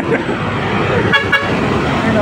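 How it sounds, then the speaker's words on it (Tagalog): Heavy traffic streams past on a busy city street where pedestrians wait to cross, a loud continuous roar of engines with short horn toots, while people talk nearby. "Hindi tayo makatawid kasi madami pa sasakyan."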